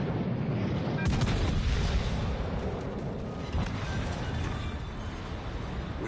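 Naval gunfire and explosions in World of Warships Legends as a battleship is sunk: dense, rumbling booms and thuds pile up continuously at steady loudness over a low engine drone.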